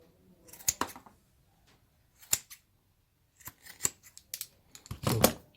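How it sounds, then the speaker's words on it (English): Scissors trimming excess material off a glued Birkenstock footbed slipper, several sharp snips in uneven bursts separated by quiet pauses, close and with no talk. "So now after applying the gum, you can trim off excesses like this."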